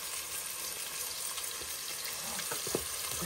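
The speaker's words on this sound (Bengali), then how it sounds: "লবণটা দিয়ে এটাকে ভালোভাবে ভেজে নিব" Onions frying with salt in a pan give a steady, close sizzle that runs the whole time, with a few brief stirring knocks near the end.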